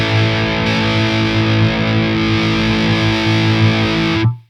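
A PRS Vela semihollow electric guitar with an F-hole, driven hard through a Revv G3 high-gain pedal, roars in a dense distorted chord that holds steady for about four seconds before cutting off abruptly.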